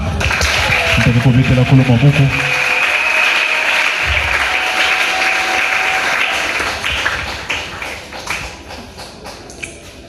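A church congregation bursts into loud applause and cheering for God, the clapping and shouts swelling at first then fading over several seconds into scattered claps and noise.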